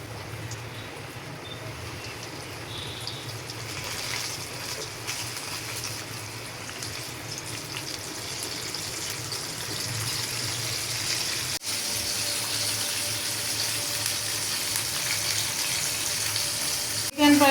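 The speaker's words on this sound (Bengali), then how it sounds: "আমি এখন তেলের মাঝে ভাজবো।" Chicken leg pieces fry in hot oil in a wok with a continuous soft sizzle and crackle that holds steady throughout, growing slightly brighter toward the end.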